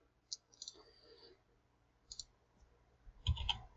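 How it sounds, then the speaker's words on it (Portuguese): A computer keyboard's Enter key is pressed while a program runs in a terminal, giving a few quiet, sharp clicks spaced apart and ending in a slightly louder keystroke, with no talk. "Apertar Enter para sair."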